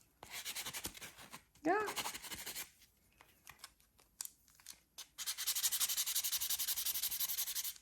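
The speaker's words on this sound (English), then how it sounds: "Or you can actually use a buffer to buff it all off." Acrylic nail coating buffed off with a coarse nail buffer, a dry rhythmic rasping in short bursts that gives way to a longer steady scrub, with a brief spoken word in between.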